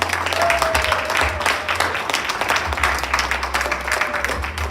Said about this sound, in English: Thought we'd give your hand a round of applause for Reginald Riddle Young.